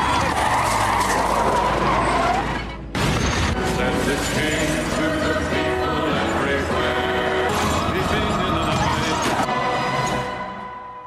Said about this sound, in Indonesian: membuat kekacauan di mobil sampai akhirnya terjadi kecelakaan